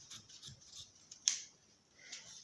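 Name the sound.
scissors cutting fabric for a dress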